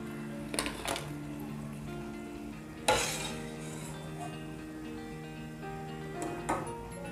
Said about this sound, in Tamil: எல்லா மாவையும் நம்ம பொரிச்சு எடுத்துக்கலாம்.